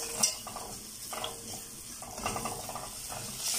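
Rice with hot pepper being stirred in a pot: rhythmic bursts of scraping and soft sizzling repeat about once a second, close and fairly quiet.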